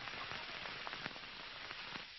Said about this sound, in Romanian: continuă să plouă torențial